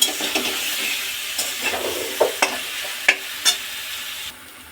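Boiled tomato and mashed potato being stirred in a pan, with a soft steady sizzle and several sharp spoon scrapes and knocks against the pan, close by and without talk.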